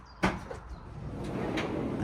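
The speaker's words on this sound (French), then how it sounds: "Je te laisse ouvrir l'autre porte" A door on a shed holding old motorcycles bought for restoration is opened. A sharp clack comes first, then a few light scrapes and knocks as it swings, quiet and close.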